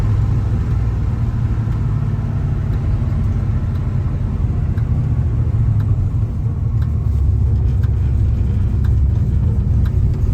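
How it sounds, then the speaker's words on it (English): A 1971 Plymouth Duster's engine on a road test drive, a loud continuous low rumble with steady cabin drone and road noise throughout. "we're gonna take this 1971 Plymouth Duster for a test drive here"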